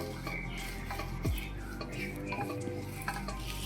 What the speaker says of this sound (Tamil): ஆற விட்டுட்டு நம்ம நெக்ஸ்ட் இங்கே கீரை வதக்கலாம்